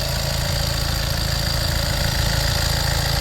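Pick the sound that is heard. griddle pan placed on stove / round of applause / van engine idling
van engine idling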